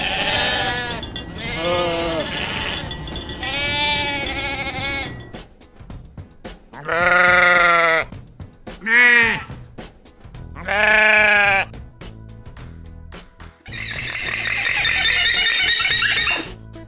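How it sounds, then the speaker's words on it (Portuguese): Goat bleating in a string of loud, wavering calls with short pauses between them, close and alone, with no other sounds around. "Cabra é um mamífero ruminante que possui chifres e alimenta-se de"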